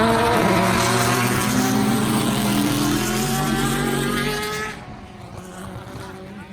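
A Chevrolet Camaro ZL1 1LE with a Corsa Extreme Plus exhaust rumbling loudly up close in a deep, steady drone that drops to a quieter idle near the end.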